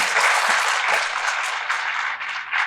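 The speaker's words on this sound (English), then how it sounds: "So can we give them a round of applause?" An audience at a women's leadership event applauds presenters on stage, a short burst of dense, loud clapping that holds steady before easing slightly.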